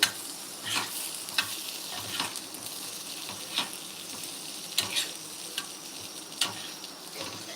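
Slices of raw banana fry in oil in a pan, with a steady bright sizzle and scattered crackling pops and occasional stirring clicks throughout, with no talking.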